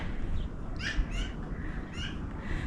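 Wild birds call in a garden, giving a few short, bright chirps at irregular intervals over a soft outdoor background, moderately close, with no voices.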